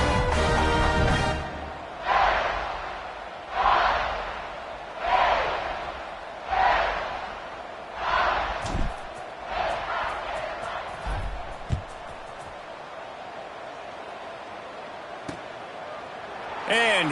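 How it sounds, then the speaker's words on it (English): A stadium crowd in the College Football 26 video game gives a rhythmic series of roaring surges at regular intervals, then settles into a lower murmur with a few sharp thuds. "this crowd now ready to get behind them"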